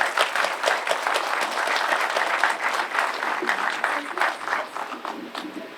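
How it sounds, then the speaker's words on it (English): An audience at an Indian flag raising ceremony for Independence Day applauds steadily and densely. The clapping fades slightly toward the end. "Can we get another round of applause?"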